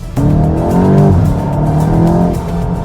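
A Volkswagen Golf GTI engine revs hard at high speed with tire squeal, a loud, close, sustained roar whose pitch rises and falls.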